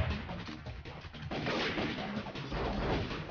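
Sniper rifle gunfire in the flash game Raze 3, a dense, muffled barrage of booming shots and crashes that rolls on without a break.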